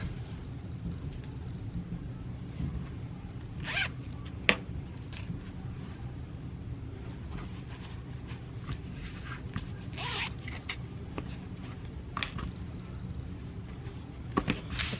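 A zipper on a freshly sewn Koda bag is pulled open and shut in several quick rasping strokes over a low steady background rumble, fairly faint and close, with no talking.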